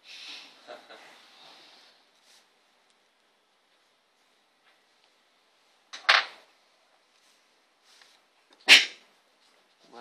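A person gives two sharp, sudden sneezes several seconds apart in a quiet room, the second louder than the first, after faint murmuring at the start.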